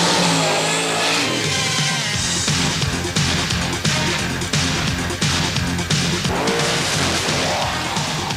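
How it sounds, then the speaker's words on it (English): The Bigfoot monster truck, a giant-tired $100,000 machine, roars through open sand dunes, its engine loud and sustained with repeated surges of revving and no talk over it. "With the ground shaking under its powerful engine and its gigantic tires clawing at the sand"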